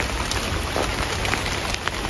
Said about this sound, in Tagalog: Kakaasar talaga ang ulan.